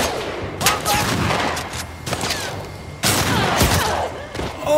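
Gunfire in The Last of Us Part II: several sharp broadband shots and bursts crack over constant combat noise, with a heavy volley near the start and another near the end.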